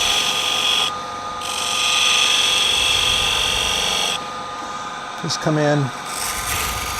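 A skew chisel takes a finishing cut on a spinning wood lathe with a steady high whine and hiss that rises and falls as the tool engages. The motor hums underneath, and someone speaks briefly near the end.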